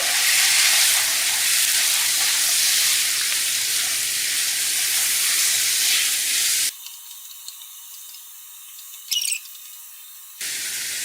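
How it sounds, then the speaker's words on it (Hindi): Chopped onion with dry spices frying in a pan gives a loud, steady, dense sizzle for several seconds, then drops to a thinner, quieter hiss with a brief high squeal. "प्याज डाल देती हूँ 1 प्याली में, ड्राई मसाले हैं, फ्राई कर लेंगे"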